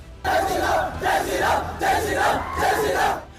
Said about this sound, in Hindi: पार्किंग में जैसे ही स्कूटी लगाकर आगे बढ़ी, तभी कुछ भगवा गमछा लपेटे लड़कों ने हूटिंग शुरू कर दी।